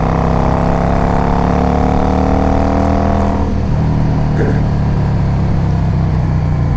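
A 2005 Yamaha V Star 650 motorcycle idles loud and close, running slightly rough on old gas, its steady engine drone shifting pitch briefly partway through as it keeps running.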